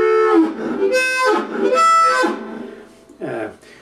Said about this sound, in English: What you do is to start on a particular note and then do a run down off it